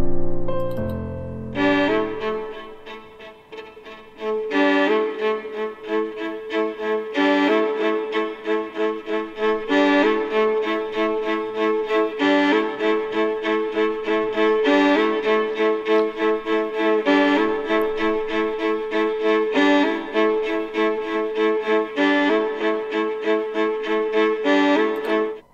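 A violin plays a lively melody, presented as a sound to guess in a children's radio game. It runs continuously with steady bowed notes after a short lower intro, loud and close, and no one talks over it.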